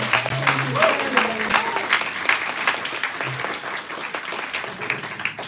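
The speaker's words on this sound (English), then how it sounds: "A round of applause for the band." A round of applause for the temple band at a Friday Shabbat service marking a rabbi's 40th anniversary, many hands clapping steadily in a large room, with a few brief voices and a faint low tone mixed in.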